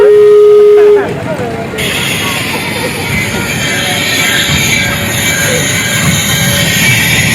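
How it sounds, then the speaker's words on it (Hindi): A fairground kids' ride train rumbles along loudly and close, with a steady rolling roar and a high hiss after a brief opening tone; no voices stand out. "कितनी बड़ी ट्रेन है।"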